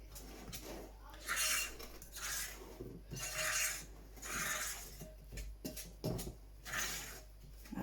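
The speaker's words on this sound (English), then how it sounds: "using the fork, we are just going to combine this together" A fork scrapes and clinks against a bowl while combining treacle sponge batter, in repeated rhythmic strokes with light metallic rasps, fairly quiet and close.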